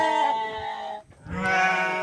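Goat in a remote rural village gives two loud, close bleats, a long nasal wavering call, a short pause, then another drawn-out bleat.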